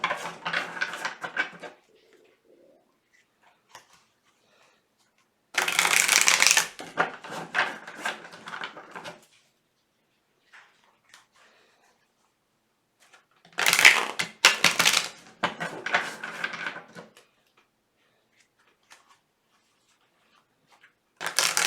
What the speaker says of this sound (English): I'm going to begin to shuffle the cards